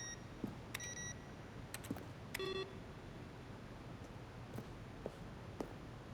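Office computers in The Stanley Parable give off scattered electronic bleeps and tonal chirps with light clicks, spaced irregularly over a faint steady hum, quiet and without talking.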